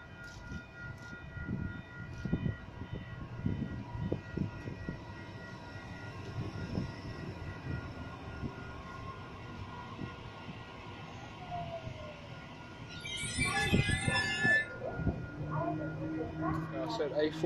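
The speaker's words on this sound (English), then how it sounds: "Now set A40, now departing from platform number one here at Clarendon." Sydney train set A40 pulling out of Clarendon station, a low rumbling rise of motor and wheel noise with a brief high squeal near the end, someone talking over it throughout.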